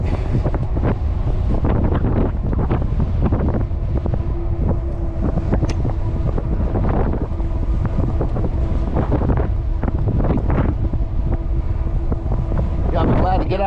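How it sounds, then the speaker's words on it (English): Heavy wind buffeting and rumbling across the microphone while riding into a headwind, loud and constant, with faint tonal engine drone underneath. "Riding right into the wind here"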